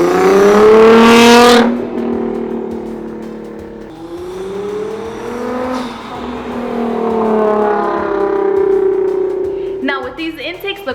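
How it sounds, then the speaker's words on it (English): A Nissan GT-R fitted with new cold air intakes and running a custom tune revs loudly and close up, its engine note rising and falling through several long sweeps before clattering briefly at the end. "I will be including a clip of the car turned on during the day so you guys can enjoy that"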